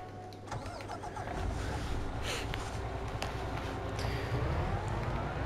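A large MAN truck engine cranks and starts in Farming Simulator, settling into a steady low diesel rumble that stays loud and continuous, with faint mechanical clicks over the top.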